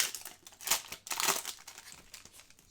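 Plasticky foil trading card packs being torn open, with crinkling and ripping bursts in quick succession, close and sharp.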